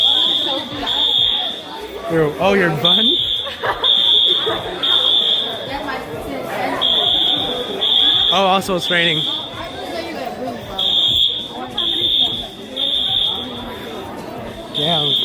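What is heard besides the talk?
fire alarm ringing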